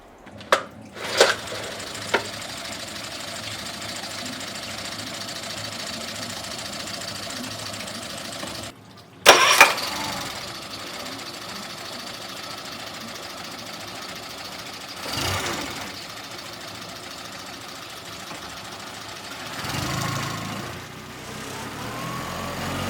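A Tohatsu MFS9.9B2 outboard motor is pulled to life after a few sharp clicks, then runs steadily with a buzzing, knocking drone that briefly cuts out and restarts.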